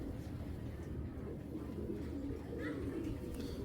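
Giribaz pigeons, an old traditional breed, coo steadily and close by against a low, constant background hum. There are no pauses in the cooing.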